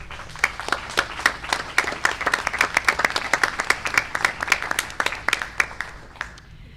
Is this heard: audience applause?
yes